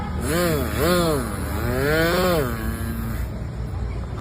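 A voice imitates a tree-cutting chainsaw with close, buzzing, engine-like revs that rise and fall in pitch over about three seconds, then trails off.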